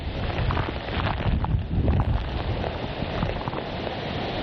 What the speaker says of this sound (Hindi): तेज हवाएं, मूसलाधार बारिश का ये जो आलम बना हुआ है